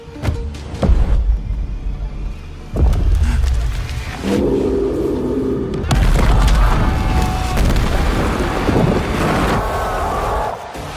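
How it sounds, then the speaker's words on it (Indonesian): A heavy explosion blasting a mountain booms out, followed by a long, loud roaring rumble that keeps surging and churning for several seconds. "para pekerja sepakat untuk meledakkan gunung tersebut, dan setelah ledakan, inilah yang terjadi"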